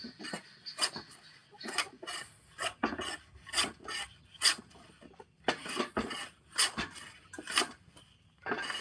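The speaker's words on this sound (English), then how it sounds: "And just sand them a bit." Hand sanding the live edges of a beech wood slab outdoors, a rhythmic series of short raspy rubbing strokes, close and fairly loud, with brief gaps between strokes and no talking.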